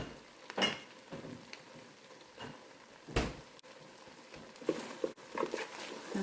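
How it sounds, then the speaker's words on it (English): Creamy Parmesan pasta sauce being stirred in a Ninja Speedi, soft intermittent scraping and swishing strokes with faint bubbling, quiet and close, no talking. "I'm going to stir that up and let that Parmesan melt"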